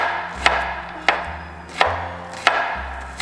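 A knife chops onion into very thin pieces on a board, four sharp, evenly spaced strikes standing out close and clear over a low steady hum.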